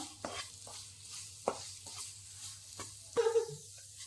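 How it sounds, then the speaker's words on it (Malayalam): Ground and powdered spice masala sautéing in oil for a Kerala-style chicken dish gives a faint, low sizzle punctuated by several distinct scrapes and knocks of a stirring spoon against the pan, without speech. "അരച്ചതും പൊടിച്ചതും എല്ലാം നന്നായിട്ട് ഒന്നുകൂടി വഴറ്റിയെടുക്കാം."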